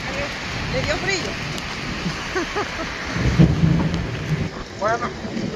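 Steady rain hisses during a night thunderstorm in a city, with low thunder rumbling underneath while people talk over it nearby.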